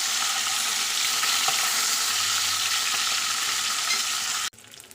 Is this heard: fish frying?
yes